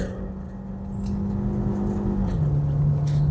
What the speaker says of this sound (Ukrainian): Зараз спробуємо розгін від 0 до 100.